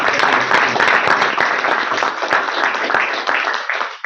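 Loud, dense audience applause for the food preparers at a gathering, many hands clapping in a steady continuous roar that tapers slightly near the end.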